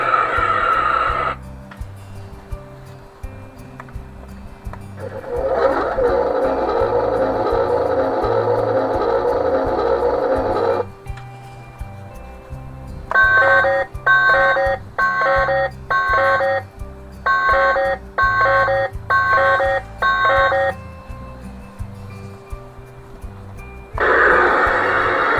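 Electronic sound effects play from a Playmates Star Trek U.S.S. Excelsior NCC-2000 toy ship: a sustained whooshing hum, then a rhythmic series of pulsing beeps and tones, loud and close through a small speaker, no talking.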